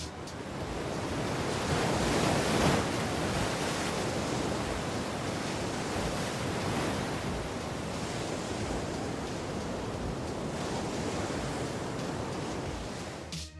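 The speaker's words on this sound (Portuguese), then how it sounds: "As ondas conhecidas como Jaws estão na costa norte da ilha de Maui, debaixo de impressionantes rochas." Giant ocean waves at Jaws, off the north coast of Maui beneath towering rocks, break in a continuous, heavy roar of surf that swells slightly early on and then holds steady, with no voices.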